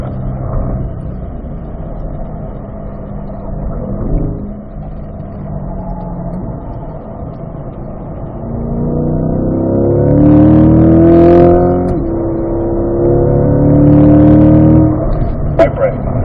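A race car engine drones and then rises as it accelerates around a track, loud and steady with gear-like pitch sweeps, while an instructor's voice talks over it.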